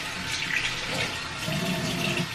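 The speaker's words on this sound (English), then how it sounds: "Now I can rinse it." A bathroom sink tap runs continuously while a face is rinsed with water, a close, steady splashing flow with no speech.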